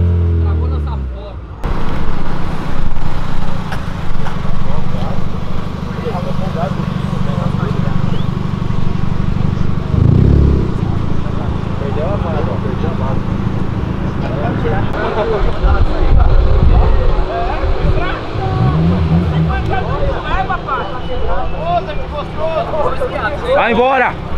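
Cars leaving a charity event, engines revving and rumbling nearby with a loud burst of acceleration midway, under steady chatter and shouting from people standing close by.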